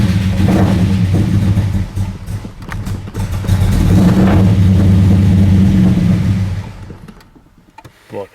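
A cold Ford Falcon coupe's 351 Cleveland V8 cranks and fires, then revs in two loud, rough surges before the engine cuts off and goes quiet.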